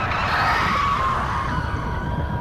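A car screeches to a halt, a loud tire squeal sliding down in pitch over a couple of seconds above road rumble, with no voices.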